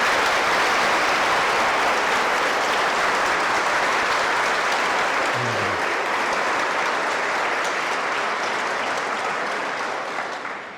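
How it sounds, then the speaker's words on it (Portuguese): A congregation at a Catholic parish Mass gives sustained applause, loud and dense throughout, then tapers off at the end. "uma salva de palmas para quem vive a periferia e ajuda a gente"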